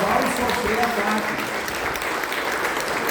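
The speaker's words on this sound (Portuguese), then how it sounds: "eu quero que vocês aplaudam esses homens" Church congregation applauding, a dense sustained clapping from a crowd that continues steadily with voices mixed in.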